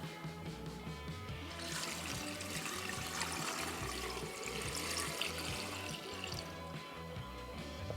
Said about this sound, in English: We're gonna pour it into our 1 gallon container here.